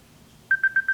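Four short, evenly spaced tones of phone-call dialing play through a Kenwood KMM-BT515HD car stereo, clear and close after a quiet start.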